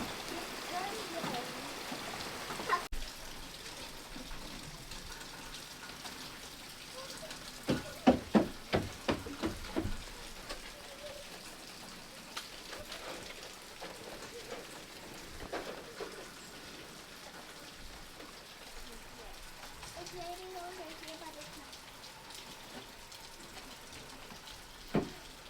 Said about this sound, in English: Wow, it is really starting to come down.